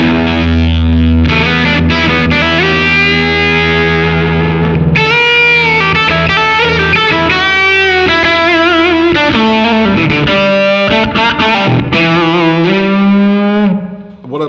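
Electric guitar through a Silktone Fuzz+ fuzz pedal with the fuzz knob at noon, playing thick sustained distorted chords and lead notes continuously for about fourteen seconds, loud and close.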